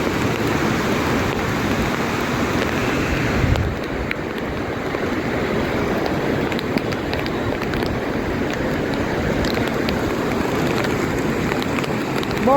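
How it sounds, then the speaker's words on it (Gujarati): Heavy rain pours down at Damodar Kund below Girnar during a flood, a loud, unbroken roar of drops hitting water and surfaces that eases slightly in tone early on and then continues. "અને વરસાદ અતિશય વધ્યો છે."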